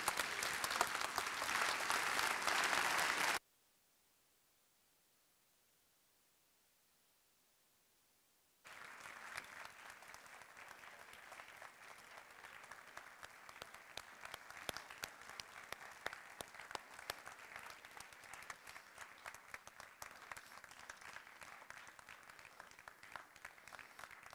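Audience applause after a talk on archaeology, loud clapping at first, cut by a few seconds of silence, then resuming as steady, sustained clapping from a large crowd.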